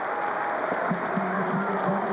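Stadium crowd noise at a 1990 men's long jump competition, a steady broad roar of cheering and applause with faint voices mixed in, continuous and fairly distant throughout.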